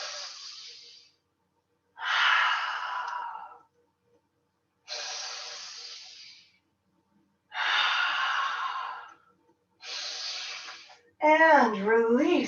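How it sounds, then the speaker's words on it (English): Slow, breathy exhales during a yoga flow, five long airy breaths with pauses between them, close and fairly loud, followed by a brief voiced sound at the end. "Exhaling to sink."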